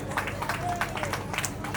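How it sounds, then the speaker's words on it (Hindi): An audience claps at a Valmiki Janmotsav celebration, a dense spread of hand claps and crowd noise running continuously under a speaking voice. "इनके लिए भी एक बार जोरदार तालियां बजाइए"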